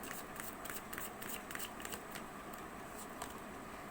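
Tarot cards are shuffled and handled close to the microphone, giving quick flurries of soft papery riffles and flicks with light rhythmic slaps.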